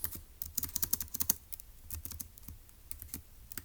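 Rapid, light typing on a computer keyboard as notes are entered for a Turing Machine logic puzzle, with a dense run of close key clicks followed by sparser, softer taps.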